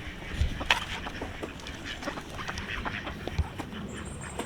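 Ducks quack outdoors, moderately near, in scattered calls over a busy background of ambient noise.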